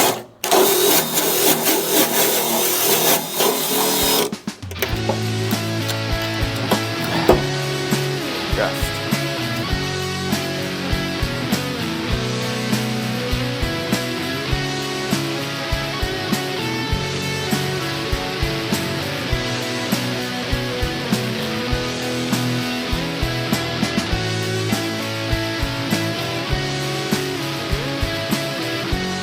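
A wire wheel grinds rust off the engine bay of a rusty Mercury Comet, a loud, continuous harsh whir with a rattling, buzzy texture running steadily for the length of the recording after a brief louder burst at the start.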